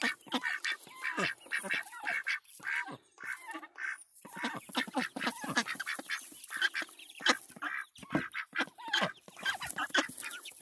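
Ducks and ducklings quacking and peeping in rapid, overlapping bursts, close by and fairly loud, with brief pauses between calls.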